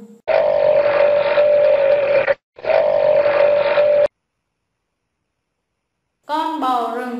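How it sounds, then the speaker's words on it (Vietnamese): A bison gives two long, sustained, low, droning bellows, loud and close, with a short gap between them. After a pause, a voice speaks. "Con bò rừng."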